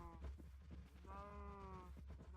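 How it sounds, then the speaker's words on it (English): Cow mooing in the video game Minecraft, a drawn-out lowing call repeated in the background over steady game noise, moderately loud with no talk. "that cow's mooing is really annoying"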